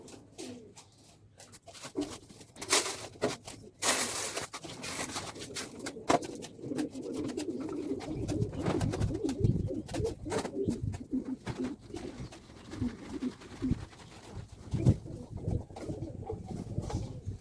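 Pigeons in a loft coo repeatedly in soft, rolling low calls, close by and fairly quiet, alongside some rustling and scattered bright noises, with no speech.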